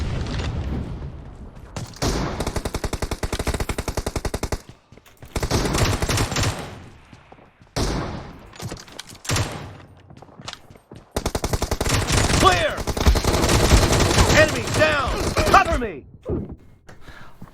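Dense bursts of automatic gunfire from PUBG Mobile rattle in long sustained strings, broken by short gaps, loud and close, with someone talking excitedly over parts of the action.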